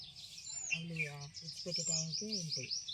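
High, thin chirping of small chicks runs throughout while a person talks nearby over it.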